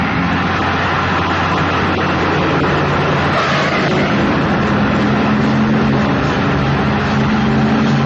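A car racing along at speed in a chase, a dense, continuous roar of engine and road noise, loud and close throughout with no break.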